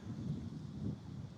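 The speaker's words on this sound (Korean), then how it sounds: "바람이 불어오는 모양새가 영 심상치 않습니다" Strong gusting wind ahead of a typhoon on an island village, a steady low rumbling roar that swells in two broad gusts and stays close and full throughout, with no voices.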